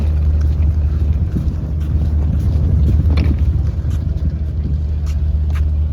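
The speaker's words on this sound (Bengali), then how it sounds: "এই যে বড় বড় ঢেউ" Big sea waves rush against a Makruzz ferry sailing to Neil Island in the Andaman Sea, heard as a loud, steady roar of water and wind over low engine rumble with no break.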